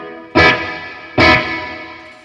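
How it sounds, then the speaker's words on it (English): Two guitar chords strike through a Fender Bassbreaker 15 amplifier, each sharp attack blooming into a lingering, shimmering reverb tail that slowly fades, played alone and up close. "That's just the reverb on the amplifier."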